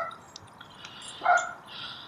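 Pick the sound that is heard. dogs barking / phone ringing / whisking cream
dogs barking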